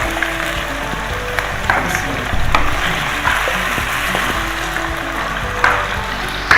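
Mutton pieces fry in hot ghee in a pot while being stirred, a continuous close sizzle with scraping and clinks of the spoon against the metal, loud and steady throughout.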